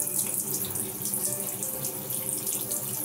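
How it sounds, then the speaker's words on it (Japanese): Tap water runs steadily into a washbasin while sink drain parts are rinsed beneath it, a close, continuous splashing hiss with no pauses. "排水口パーツ類もすすいでいきます。"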